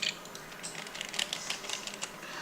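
Typing on a computer keyboard during a Python programming session, a quick patter of light key clicks in irregular bursts, close and fairly faint, with no voices.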